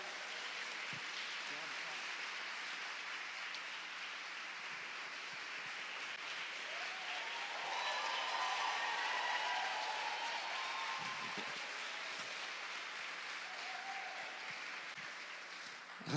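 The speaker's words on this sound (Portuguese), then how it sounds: "Eu quero que você dê uma salva de palmas para essa galera." A church congregation at an evangelical service applauds, a broad sustained wash of clapping that swells slightly midway, with faint voices and cheers mixed in, moderately distant.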